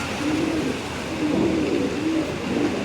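A racing pigeon coos in a low, repeated murmur, several soft rolling calls close by over a steady background hiss.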